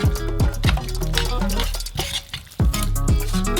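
A utensil stirs instant noodles dressed with chili oil, vinegar and sauce, giving repeated close clinks against a bowl with wet mixing sounds in an irregular rhythm and no talking.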